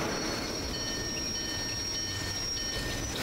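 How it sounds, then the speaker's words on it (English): Passenger train in Train World game: a quiet, steady rolling rumble with faint high whining tones, continuous and somewhat distant. "Oh, there is the passenger train."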